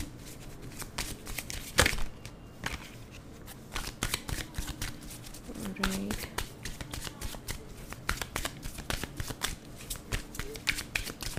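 Tarot cards being shuffled by hand, a steady run of soft riffling and slapping close by, with a few sharper snaps, mostly alone with little talk.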